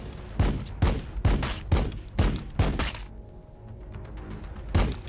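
Gunfire in the video game Warhammer 40k Battlesector: a string of sharp, loud shots in quick uneven succession, a short pause, then one more blast near the end.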